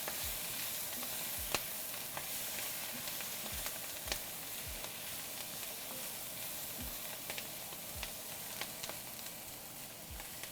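Crispy duck pieces frying in an oiled pan crackle in a steady, close sizzle, with faint scrapes and clicks of stirring marking an irregular rhythm throughout.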